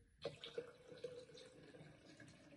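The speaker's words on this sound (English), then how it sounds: "I'm going to put some water into the jug." Tap water pours into a one-litre hydrogen water jug, a soft, steady splashing trickle that stays quiet and close, with no talking.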